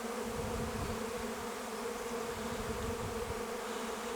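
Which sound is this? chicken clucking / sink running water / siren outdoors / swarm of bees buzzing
swarm of bees buzzing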